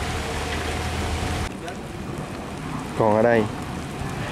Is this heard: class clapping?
no